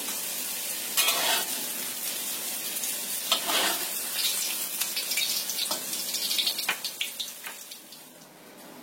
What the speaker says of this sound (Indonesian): Kemudian kita tumis bawang merah dan bawang putih sampai agak layu